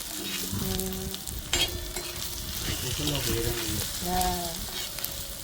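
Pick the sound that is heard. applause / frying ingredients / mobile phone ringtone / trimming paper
frying ingredients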